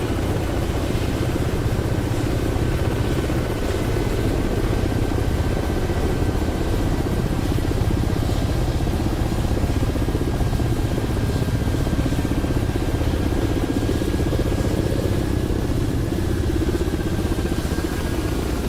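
Damaged helicopter flying in DCS World during a dogfight competition: a loud, constant rotor and turbine drone with a steady whine, unbroken and close throughout, with no talk over it.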